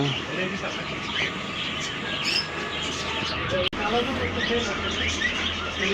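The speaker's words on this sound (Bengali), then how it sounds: "এখানে অনেক ধরনের পাখি আছে" Many kinds of small caged birds, including budgerigars, chirping and twittering together in a busy mixed chorus, steady and moderately near, with a voice briefly audible in the background.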